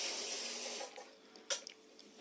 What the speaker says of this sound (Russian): Смачиваю его в воде.